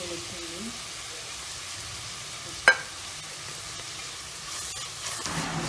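Chopped onion, ginger, garlic and curry leaves fry in oil with a steady soft sizzle, one sharp clink of a utensil midway and the hiss swelling slightly near the end.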